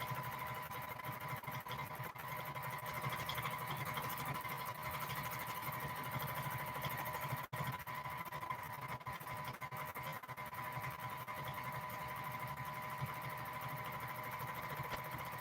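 Domestic sewing machine quilting edge-to-edge feathers, a steady, moderately quiet mechanical hum with a fine rapid needle patter running throughout, a brief dip midway.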